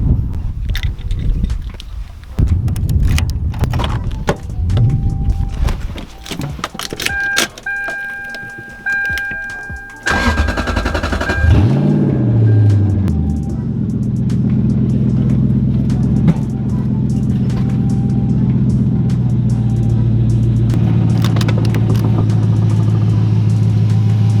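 A Lexus LS400 that has sat unused for a long time cranks and fires at around ten seconds, then settles into a steady, close, low idle rumble after earlier clicks and small handling noises.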